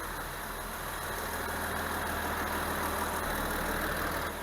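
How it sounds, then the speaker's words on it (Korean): A Kia Mohave SUV's steady, low engine idle hums continuously alongside the even whoosh of its air conditioner and Bosch electric cooling fan, hood closed, moderately quiet and unchanging throughout. "현재 에어컨 작동 중에 있습니다."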